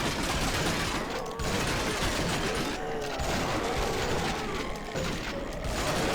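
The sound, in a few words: gunfire in the video game Zombie Village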